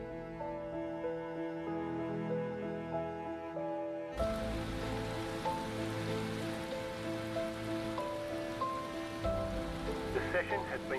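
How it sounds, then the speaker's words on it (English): Rain falls on the track in the iRacing sim during a Mazda Cup race at St. Petersburg, a steady wash of drops that swells partway through, layered over music and engine tones, with no talk. "Rain is close."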